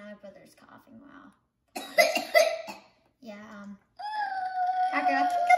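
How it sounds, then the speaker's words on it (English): Several bouts of coughing, loud and close, spread out between short pauses, then a child's whimpering cry toward the end. "And my brother's coughing"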